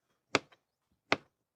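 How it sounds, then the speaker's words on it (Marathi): A knife chops through pumpkin on a cutting board during home cooking, two sharp, close chops about a second apart with short rebounds, no talking. "अशा पद्धतीने भोपळ्याची कटिंग करून घ्यायची आपल्याला"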